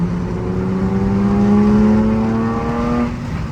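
A Porsche 911 GT engine in limp mode, triggered by an aftermarket exhaust, gives a loud, steady drone whose pitch climbs gradually and then flattens as though it cannot rev higher, with no talk over it.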